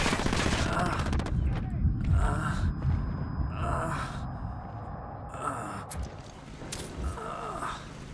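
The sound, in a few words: gunfire in video game Ghost Recon Wildlands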